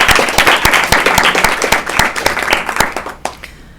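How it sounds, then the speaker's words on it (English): Loud applause fills a school board meeting room as the audience thanks a student board member, dense clapping with crisp individual claps close by, tapering off near the end. "I'd like to ask everyone to join me in a round of applause and thank him."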